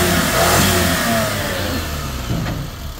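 A Suzuki DA17 van with a turbo engine and Straightmatic automatic gearbox revs loudly at close range, holding a rough, sustained roar that eases slightly before a short blip near the end.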